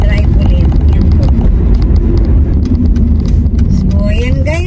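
Car being driven home at night along quiet roads, a steady loud engine and road rumble with passing traffic hiss, under continuous talk.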